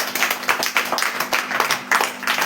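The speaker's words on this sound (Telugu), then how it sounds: "give a big clap" Audience applause at a deity worship seminar: a brisk, uneven patter of many hands clapping together at moderate loudness for a couple of seconds.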